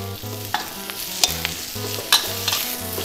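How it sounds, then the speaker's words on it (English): Vegetables being stir-fried in a hot pan for cashew nut chicken: a constant loud sizzle broken by scraping spatula strokes and a few sharp clinks, close up with no voices. "you put veggies in. And keep cooking."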